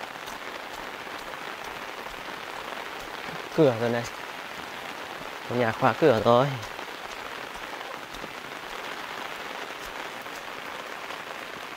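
Steady rain falls on surfaces in a rural home setting, producing a constant hiss throughout, with a few short stretches of people talking over it.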